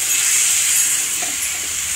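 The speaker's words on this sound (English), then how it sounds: "We will add little water and we will cook it till the brinjal becomes soft and tender." Brinjal simmering with a little water in a pan over low heat, giving a steady, even hiss and gentle sizzle throughout, close and continuous with no talk.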